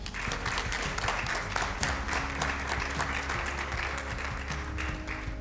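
An audience at a school debate tournament gives a steady, sustained round of applause for a high school debate team and its teacher, dense clapping continuing throughout with no voices.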